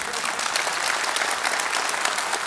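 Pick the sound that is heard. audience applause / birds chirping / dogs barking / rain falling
audience applause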